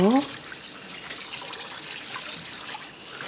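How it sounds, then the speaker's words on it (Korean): Cleaned yellow croaker being rinsed under a running kitchen tap, a steady close-up stream of water splashing over the fish in a sink for the whole stretch. "다 손질된 조기를 깨끗이 씻어요"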